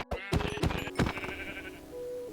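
Sheep in a single-player video game bleat three or four times in quick succession, synthetic, clear and close, followed by a held tonal bleat.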